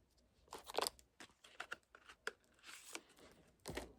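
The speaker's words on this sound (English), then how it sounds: "Blue tape coming off." Blue tape peeled off a cardboard mailer: faint, close tearing and crinkling in short ripping bursts separated by quiet gaps.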